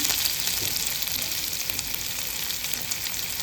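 Chopped onion and curry leaves sizzle steadily in hot oil over cumin and mustard seeds, a loud, continuous close-up crackle with no talking.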